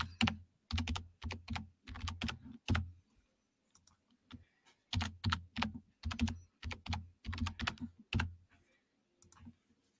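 Someone types a password on a computer keyboard, quick bursts of close, crisp key clicks with short pauses between groups, fairly quiet and with no talk.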